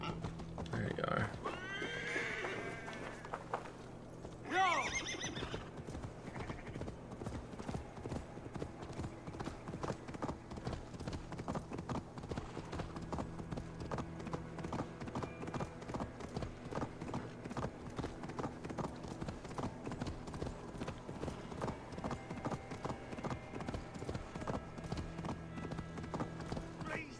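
Horse in Assassin's Creed Valhalla, a whinny near the start followed by steady rhythmic hoof clip-clops throughout, with spoken voices over the opening seconds.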